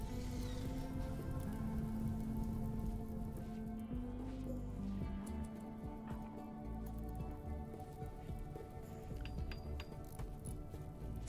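Rain falls steadily in a video game, a constant wash of drops and drips laid over a droning musical hum, moderate and continuous with no talking.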